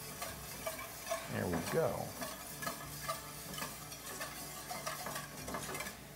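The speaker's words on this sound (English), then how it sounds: "you bring it to a boil and you scrape all the brown bits, which comes from the flour on the pheasant, in the pan" A spoon scrapes browned, floury bits from a pan of boiling liquid while making sauce for pheasant, a quiet sizzle with intermittent scraping and clicking strokes, and a voice speaks briefly.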